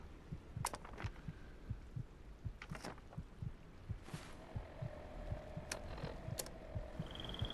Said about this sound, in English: you will hear your heartbeat a lot with this character